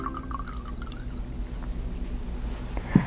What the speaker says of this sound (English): set up your bowl and fill it about halfway up with water